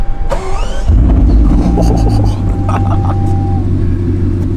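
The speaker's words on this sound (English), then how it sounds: "Engine on." A 2021 Bugatti Chiron Super Sport engine cranks and fires up with a loud burst, then settles into a deep, rumbling idle while a voice briefly speaks over it.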